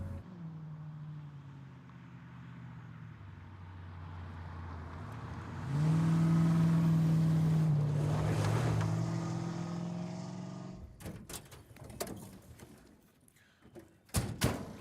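A Ford F100 with a swapped-in Crown Victoria engine drives past at a moderate distance, its hum rising into a stronger, steady acceleration before fading. Scattered knocks and clatter follow near the end.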